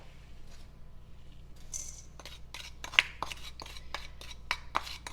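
Melted butter and sugar for a frozen strawberry dessert are stirred in a bowl, giving a series of soft scraping taps and light clinks, fairly quiet and irregular, with no talking.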